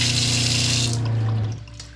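Water runs steadily from a camper van's sink tap, fed by an electric pump, a broad hiss with a low hum beneath that cuts off abruptly partway through, leaving a quieter tail.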